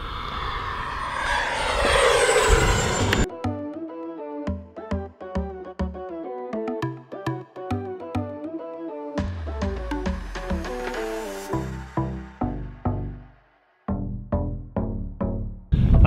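An E-flite F-16 Falcon RC jet with an 80mm EDF inrunner motor on 6S power gives a loud, close rush of ducted air, then a sharp whine that rises and falls in quick throttle bursts, with no speech.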